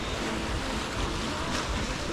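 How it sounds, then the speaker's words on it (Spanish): Ocean waves break on a beach at Playa del Carmen with a constant loud, broadband roar and wind buffeting the microphone, heard without talking. "Aquí rompen la ola, pero una me va a dar a mí, el agua me va a dar a mí."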